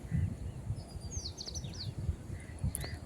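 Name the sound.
sparrows chirping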